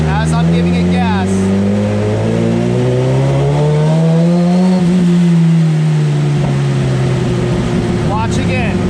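A 2016 Suzuki GSX-R 1000 sport bike engine revs on a dyno, loud and close. The pitch climbs steadily under throttle, dips, then rises again with short blips near the end.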